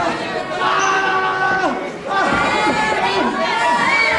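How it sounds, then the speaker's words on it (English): A dense ringside crowd at a televised wrestling bout in Solihull shouts and cheers continuously and loudly, with overlapping voices calling out advice to the wrestlers. "The crowd here at Solihull really advising the Italian every move."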